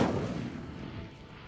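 Casting the Incendio fire spell in Hogwarts Legacy sets off a single heavy burst of fiery blast that starts loud and fades over about a second and a half.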